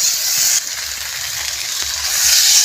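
Bengali potol dorma curry with turmeric, slit green chillies and mustard paste sautéing in a pan over a wood-fired stove, giving a steady, close, broadband sizzle with faint scraping from stirring and no voices.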